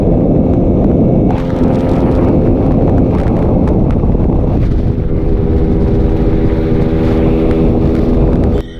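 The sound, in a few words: Suzuki Raider FI motorcycle riding past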